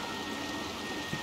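Steady, even rainfall in the game Little Nightmares 2, a soft continuous patter with no voices, brief and moderately quiet.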